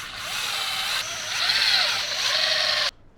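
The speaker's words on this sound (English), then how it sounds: "And then begin screwing it in." A power drill whirs steadily for about three seconds, rising slightly in pitch, driving screws to mount an Alpine speaker into a 2025 Toyota 4Runner, then stops abruptly.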